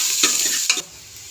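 Onions frying in hot oil with curry leaves in a pressure cooker, a soft close sizzle broken by two brief stirring scrapes.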